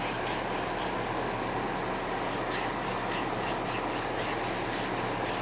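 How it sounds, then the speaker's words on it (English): Steady, close scraping and rubbing as a pick works caked carbon off a Cummins 24-valve diesel injector nut, a continuous gritty rasp with faint rhythmic strokes and no talk. "I'm just continuing to scrape it with this pick to make sure that they're all broken free"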